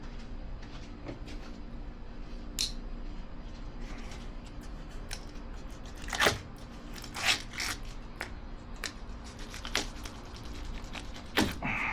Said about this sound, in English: So let me get my razor blade. We need to cut these corners off.